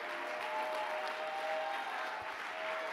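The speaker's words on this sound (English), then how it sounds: "give the Lord the biggest hand clap" A congregation at a gospel service claps their hands together in a dense, steady wash of applause with a faint sustained tone running beneath it.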